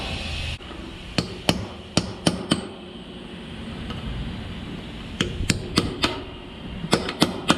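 Hammer blows on two chisels driving a part out of a JOST SK37U fifth wheel, two bursts of sharp metallic strikes, five or so each in an uneven rhythm, close and loud.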